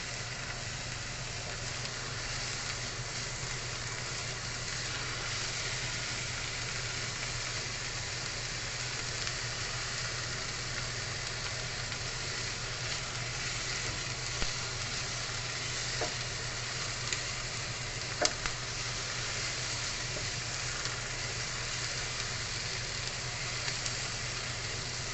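Garlic and onions fry in a pan over a strong flame for pork with vegetables, giving a steady, close sizzle with occasional stirring clicks and no talk.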